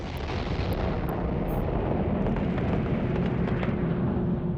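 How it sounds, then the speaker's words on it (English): Space battle explosions in the game Eve Online, a dense continuous rumbling roar of blasts with a few sharp high clicks early on, loud and steady throughout with no talk. "Now we can scroll out and see all like the cool explosions."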